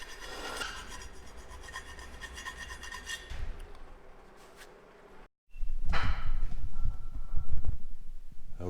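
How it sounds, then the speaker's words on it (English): Filing metal on a rusted car liftgate part, a steady rasping scrape that pauses briefly, then resumes louder and closer with strong rough strokes. "Okay, after quite a bit of filing,"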